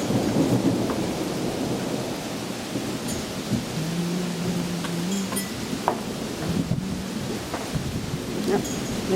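Thunder rumbles low and heavy through a rainstorm, with steady rain hissing on surfaces throughout; the rolling rumble sounds fairly close and loud, and a voice is faintly audible underneath.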